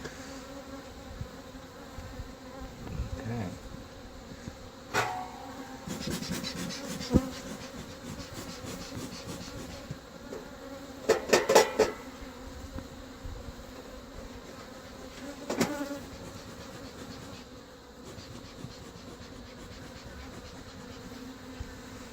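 Honey bees buzz continuously around an open hive during queen cell removal, a dense insect drone with occasional closer, louder passes and brief knocks.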